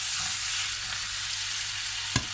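Steady, close sizzling as sliced peeled apples are stirred into caramel, a soft hiss throughout, and one brief clack of a utensil near the end.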